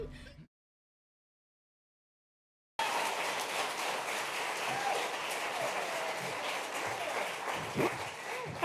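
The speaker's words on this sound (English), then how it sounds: "That was such a nice round of clapping" After a brief sound and a stretch of silence, a live audience at an AOL Build event breaks into steady, full applause that continues to the end, moderately loud and even.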